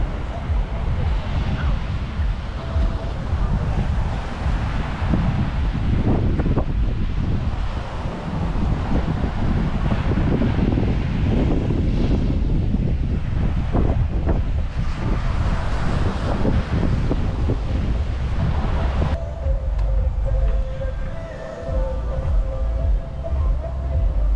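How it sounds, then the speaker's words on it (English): Strong wind roars continuously against the microphone, with a rushing, blustery texture and possible surf underneath; no clear speech. "it is very windy"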